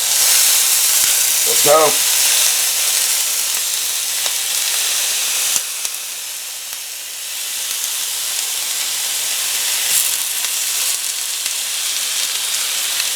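Raw meat dropped into a hot pan gives a steady, close frying sizzle and hiss for the whole stretch, with a short shout near the start and faint voices over it.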